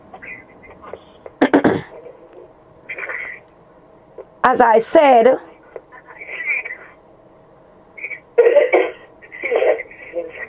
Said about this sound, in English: whoever is coughing, please move away your mouth